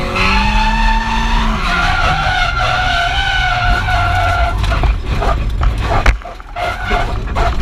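An SR20DET-powered S14 Silvia drift car skids with loud engine roar and tire noise, then slams into a harder wall with no bales, a sharp impact thud near the end.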